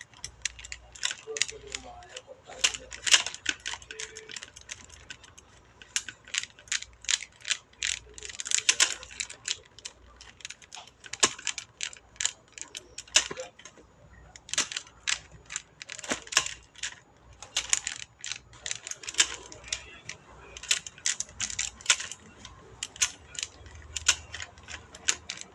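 Spokes on a 16-inch bicycle rim being tightened, a dense run of small sharp metallic clicks and ticks repeating unevenly up close for the whole stretch, with faint low background hum.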